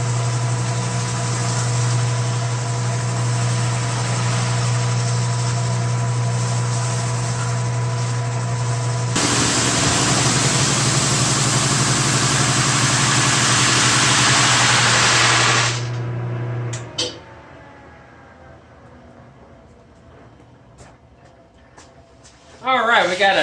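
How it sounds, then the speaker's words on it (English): Wooden farm-style dining tabletop board passing through a milling machine, a loud steady mechanical roar with a sustained hum that swells harsher midway, then cuts off and leaves quiet shop sounds. "we're just running this through and just barely taking the top off. You can hear that it's just barely hitting the board"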